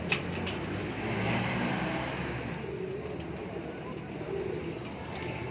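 Purebred homing pigeons in a breeding loft on a Lahore rooftop coo softly and continuously against steady background noise, with no distinct call standing out.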